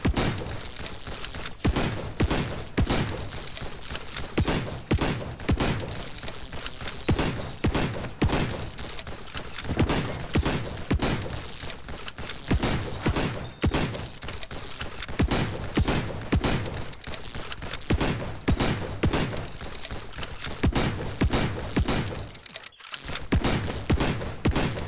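Rapid gunfire in the video game NIMRODS, dense bursts of shots firing almost continuously at a loud, steady level with a brief pause near the end.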